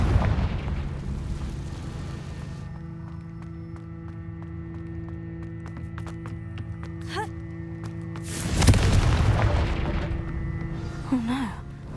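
A Confringo fire spell bursts in Hogwarts Legacy, a loud deep boom with a roaring rumble over a steady game ambience, preceded by a quieter stretch of low hum and faint magical tones.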